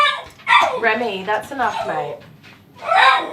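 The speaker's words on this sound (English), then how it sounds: "Sorry about the barking." A dog named Remy, excited in a grooming room, lets out a few yips and barks that are partly masked by someone talking over them, with a clearer burst near the end.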